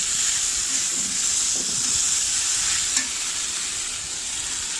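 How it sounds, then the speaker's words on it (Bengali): Chopped garlic and taro stolons fry in hot oil with a steady, loud sizzle and hiss that continues throughout, with faint stirring and no voices. "তারপর দিয়ে দিলাম রসুন কুচিটা কিছুক্ষণ ভাজার পর এর মধ্যে লতিগুলো দিয়ে দিব"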